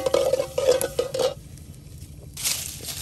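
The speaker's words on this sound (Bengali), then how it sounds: "দেখুন জাল দিয়ে শিরা তৈরি করা হচ্ছে" Sugar syrup with bay leaves bubbles and is stirred in a pot over the fire, a close scraping and rattling stir for about a second followed by softer boiling and a brief hiss, no talk.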